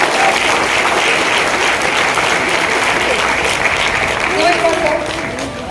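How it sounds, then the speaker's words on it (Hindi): Applause from an audience at a plan presentation event in Kandiwali, a dense steady clapping that fills the room at close range and fades slightly near the end, with a voice faintly underneath. "उनके लिए जोरदार ताली हो जाए"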